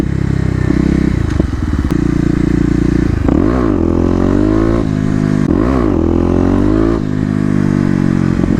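A Kawasaki KLX250 dual-sport motorcycle ridden through city streets, its loud, close single-cylinder drone rising and falling with repeated revs and throttle changes, alongside light rattles.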